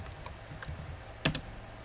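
Light clicks of typing on a computer keyboard, with a few soft taps and then two sharper, closer keystrokes in quick succession, alone with no talk.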